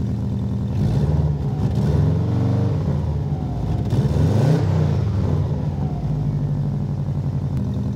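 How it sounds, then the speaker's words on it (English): A 1985 Toyota MR2 engine idles with a low, steady rumble, swelling briefly as it revs midway before settling back down. "this car sounds so good"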